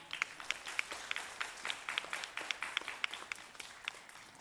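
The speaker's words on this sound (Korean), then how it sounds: "박수 한번 주세요" Fans applauding LSB players at a send-off event in Busan, a modest, fairly distant patter of claps with distinct individual strikes in a loose, quick rhythm.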